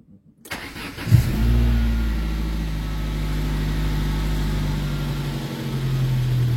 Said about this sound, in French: Je vais peut-être mettre juste un petit coup de démarreur.